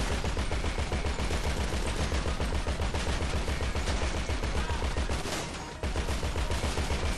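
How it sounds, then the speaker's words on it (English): Video game gunfire, dense rapid automatic shots that run continuously and loudly throughout with only a brief dip near the end. "I'm getting shot at by somebody on the other side"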